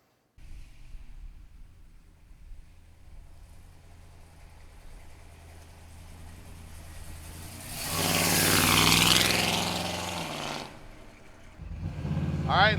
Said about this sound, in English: Sweet sounding exhaust on this baby, 396 under the hood